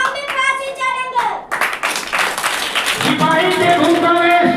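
Audience hand clapping rises after an announcement at a children's school play performance, a dense patter building and holding steady, loud and close, with a voice speaking at the start.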